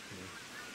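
A single brief honking duck quack, faint against a soft background hiss, in Førde, Norway.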